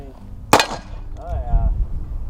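A Great Western II Buntline revolver fires a single sharp shot at an outdoor range, a loud crack followed by brief rumbling and faint handling noise.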